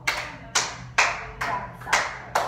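Middle school students in a classroom clap together in six sharp, evenly spaced bursts about half a second apart, each a quick cluster of hands striking, with no talking in between.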